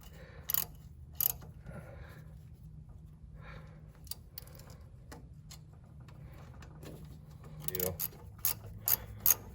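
Close ratchet clicks in short bursts on a diesel race truck as a bolt is tightened, with brief pauses between strokes and a low background hum.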